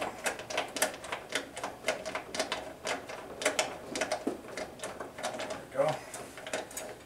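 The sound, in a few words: ratchet removing gas tank screws on small engine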